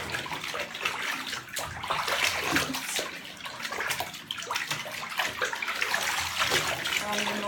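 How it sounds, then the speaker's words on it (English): Water splashes and sloshes in a bathtub as hand-washed laundry is rinsed of soap, a continuous close wash of running and churning water with uneven surges and no talk. "So then I just try and rinse as much soap out as possible and then stack it on the other side."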